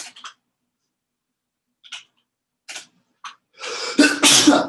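A single person's sneezes at a desk: a few short, sharp bursts spaced apart, then a louder, fuller sneeze with voiced breath at the end, close to the mic and with no talk around it.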